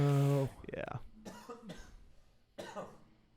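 A person coughs and clears their throat in a few short rough bursts, close and fairly loud, with a voice briefly heard before them.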